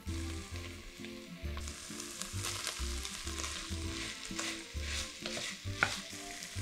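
Diced carrot cubes frying in a pan for a beef shank and vegetable soup, a steady close sizzle broken by repeated scraping stirs of a utensil, with no voices.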